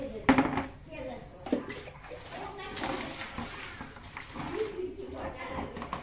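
Water sloshing and splashing as a large tub is scrubbed and rinsed, with scattered knocks and people talking nearby.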